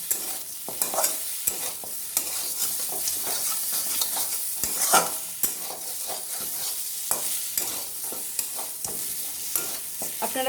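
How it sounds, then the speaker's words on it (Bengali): Chicken pieces coated in sauce and a little mayonnaise stir-fried in a pan with very little oil, giving a steady close sizzle broken by repeated scraping stirs of a spoon throughout, with no voices. "তাতে হালকা হাতে ঘুরিয়ে ঘুরিয়ে ভেজে নিতে হবে।"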